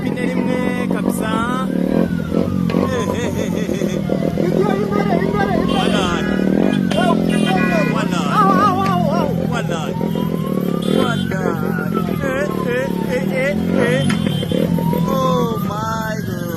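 Motorcycle revving hard while ridden on one wheel at an outdoor campaign rally crowd, engine whine rising and falling in repeated swells over loud crowd noise, cheering and talk throughout.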